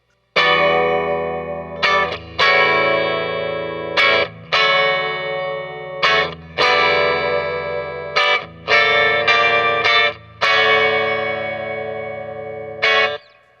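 A Fender Johnny Marr Jaguar electric guitar on its bridge pickup plays bright, ringing chords with a chorus-like shimmer, struck in repeated bursts and left to sustain, with no talking.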